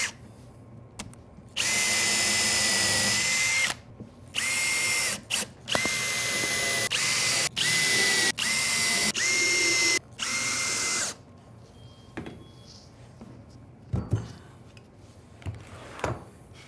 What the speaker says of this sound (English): And I'm just going to add a few screws just to kind of hold that in place.